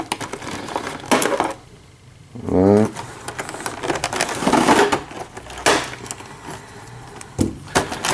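Sharp snips and crunchy cutting sounds of ill-suited scissors on plastic ties, repeated irregularly close by, with a person talking over them.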